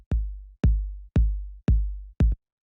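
Five evenly spaced electronic kick drum hits, clean and without drive or crunch, each a deep booming thump with a short click and a decaying low tail, loud and alone.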